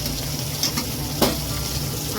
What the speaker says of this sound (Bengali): চলো আর একটু ভাজা হয়নি পটলটা